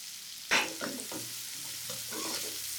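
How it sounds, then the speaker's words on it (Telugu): Chopped onion dropped into hot oil and stirred for a boiled egg fry, a sudden loud sizzle burst at the start settling into a softer continuous frying hiss with stirring scrapes, close by. "ఆయిల్ వేడి కాగానే మనం కట్ చేసుకున్న ఆనియన్ కూడా వేసుకొని కలుపుకోవాలి."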